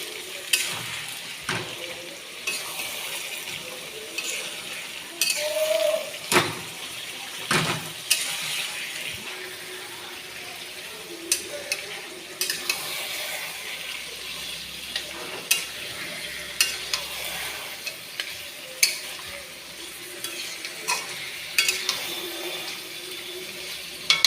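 Marinated mutton for kosha frying in a pan with home-ground spices, a broad steady sizzle under frequent spoon scrapes and clacks against the metal, close and continuous with no speech.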